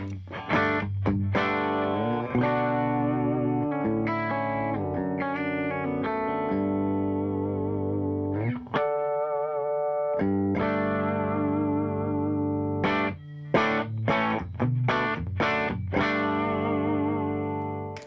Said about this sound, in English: I'm gonna just turn off the reverb, and so you can just hear the dry tone.